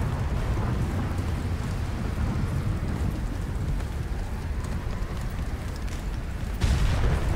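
Thunderstorm ambience from Subnautica Below Zero: steady rain on the surface with low rolling thunder throughout and a louder rumble near the end, no speech.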